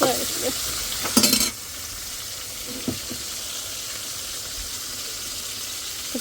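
Fish frying with spices and onion in a pan, a steady hissing sizzle with a few stirring scrapes and a short louder burst early on, then a continuous even fry with no talking.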